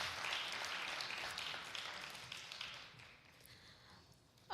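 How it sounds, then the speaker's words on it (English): An audience at an annual arts event applauds a performer with a moderate burst of clapping that gradually thins and fades over a few seconds, heard at a distance with no talking over it. "Give another round of applause for Johanna Kepler"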